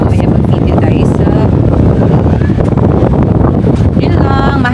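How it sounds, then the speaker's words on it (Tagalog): Strong wind buffets a handheld microphone outdoors on a city outing, a loud continuous rumbling roar that dominates throughout, with faint voices partly buried beneath it. "Mahangin."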